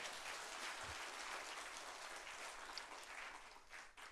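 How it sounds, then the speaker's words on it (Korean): A church congregation applauds to welcome a guest lecturer. The dense, even clapping is faint and distant and continues for about four seconds with no talking. "박수로 환영해 주시기 바랍니다."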